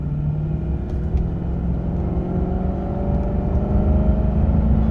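A 1996 Lincoln Mark VIII with only 40,000 miles accelerates under throttle, its engine a steady, loud low rumble and whir that holds and slightly swells throughout, heard from inside the car with no talking.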